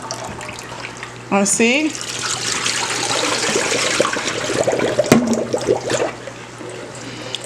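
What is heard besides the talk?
running water rinsing quinoa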